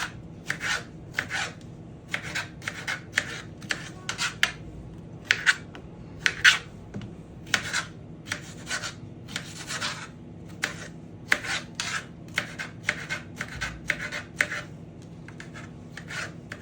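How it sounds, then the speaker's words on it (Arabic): A knife cuts cucumbers for an Egyptian country salad, a run of quick, crisp, close chopping taps on a board in irregular bursts, fairly quiet, with no talk. "هنبدأ نقطع الخيار."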